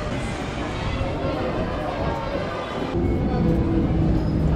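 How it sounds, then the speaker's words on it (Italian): Steady low rumble and rolling clatter of an underground train, loud and continuous, shifting in tone partway through as the ride continues. "Adesso dobbiamo prendere la metropolitana."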